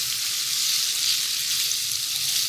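Food sizzles and fries in a Joydeem 2-in-1 electric hot pot, a steady, close, crackling hiss with no voices.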